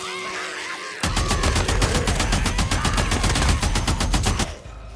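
Rapid automatic gunfire from the video game Days Gone rips out in one loud, unbroken burst of about three and a half seconds, each shot sharp and evenly spaced, then cuts off abruptly.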